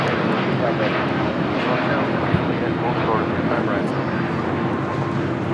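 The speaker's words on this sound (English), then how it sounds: "This is American Airlines Flight 27 taking off to Tokyo, Haneda on a 787-8 Dreamliner" American Airlines Boeing 787-8 Dreamliner taking off from Los Angeles International Airport bound for Tokyo Haneda; a sustained, loud engine roar runs throughout, with talk over it.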